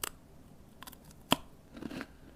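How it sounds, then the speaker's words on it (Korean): A single crisp crunch from biting into a firm coconut cocoa cookie made with salted butter, a sharp close bite followed by a few softer chewing crunches. "두 번째는 뿌리 떨어진 유니콘 코코넛 코코아 쿠키를 먹어보겠습니다"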